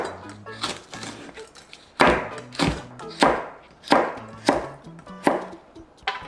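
A knife chops two Cheongyang green chili peppers and a red chili on a cutting board, making about seven sharp, evenly spaced thuds. A faint low tonal sound continues in the background.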